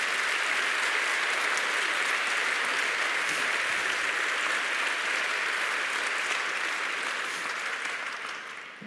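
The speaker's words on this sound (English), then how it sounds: "Let's give them a round of applause." Audience of friends and families applauding graduates at an executive education celebration, a broad, dense wash of clapping that stays steady and loud before tapering off at the end.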